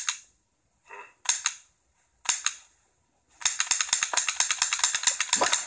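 A toy gun firing with sharp clicks, a few isolated snaps and then a rapid, rhythmic run of close mechanical cap-gun cracks, loud and clear with no talk.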